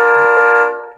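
A Lionel Doodlebug model train sounds its horn in one sustained, loud, steady electronic tone lasting about a second before fading out, heard alone up close.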